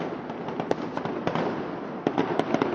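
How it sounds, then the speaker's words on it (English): A fireworks display finale set off for a holiday celebration bursts in rapid succession, with sharp cracks and deep booms overlapping over a continuous crackling roar, loud and dense at a moderate distance. "Gotta love the fireworks."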